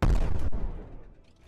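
A single loud, booming gunshot in the video game Brick Rigs bursts out at once, then trails off into a fading rumble.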